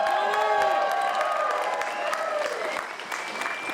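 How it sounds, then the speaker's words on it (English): Rally crowd at an outdoor Labor Day march applauding and cheering, a steady dense wash of clapping with whoops and shouts throughout, loud and close, with some voices mixed in. "You're doing an incredible job clapping and shouting."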